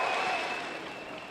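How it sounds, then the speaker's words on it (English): An audience at the Pokémon World Championships senior final cheers and applauds in a broad, sustained roar, with a few whistles riding on top as the noise slowly fades. "If you're behind Fuguan Liao, cheer for me now!"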